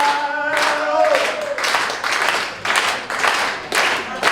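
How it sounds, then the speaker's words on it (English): A comedy club audience claps slowly in rhythm, about eight evenly spaced bursts of applause, with a voice audible at the start. "So let's get a slow clap going."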